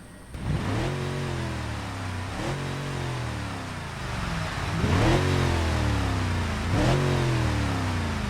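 A video game car's engine revs repeatedly in neutral, heard from outside the vehicle, with about four rising-and-falling rev sweeps over a steady idle, fairly loud and close.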